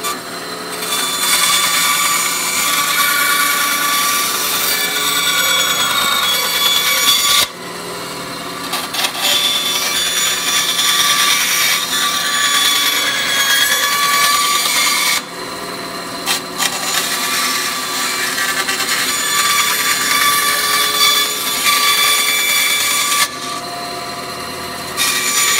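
A power tool cutting Bacote wood guitar picks, a loud, continuous close whining grind that runs steadily with two brief dips, no speech.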